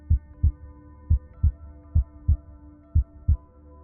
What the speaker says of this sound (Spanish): Siente ese latido.